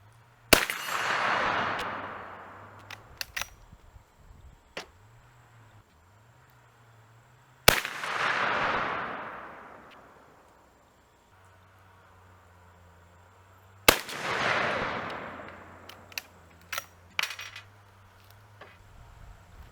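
Three sharp, loud .44 Magnum high-velocity brush cartridge gunshots ring out several seconds apart, each a crisp crack followed by a long rolling echo that fades, with a faint low hum between shots.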